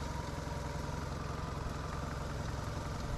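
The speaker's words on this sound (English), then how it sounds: "So not only was it idling low, it was idling rough." A car engine idling low and rough, with a steady, continuous mechanical drone and uneven low-end pulsing heard up close with no talking.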